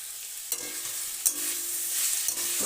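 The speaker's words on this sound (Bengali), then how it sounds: "দিয়ে ভালো করে মিশিয়ে নিলাম।" Chili flakes being stirred into spring roll filling in a hot pan, with a steady sizzle throughout and a few sharp scraping clinks of the spoon against the pan at intervals; no talking.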